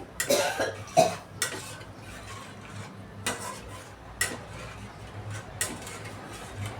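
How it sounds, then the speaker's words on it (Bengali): A spoon stirs Gujarati dahi kadhi in a pot, making repeated light scraping clinks against the metal at an irregular pace, close and fairly quiet with no talking. "আরও ভালো করে নাড়াচাড়া করে নিচ্ছি।"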